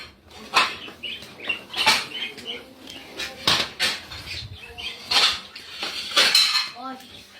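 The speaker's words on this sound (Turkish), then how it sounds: "Tabak getireyim bence herkese." Plates and cutlery clatter and clink in sharp, irregular bursts as dishes are brought out for everyone at a home meal, close by, with a quiet voice now and then.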